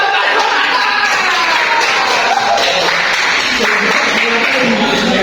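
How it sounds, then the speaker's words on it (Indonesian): Students in a micro-teaching class applaud, a loud close burst of clapping with some voices mixed in, running steadily across the whole stretch. "Tepuk tangan"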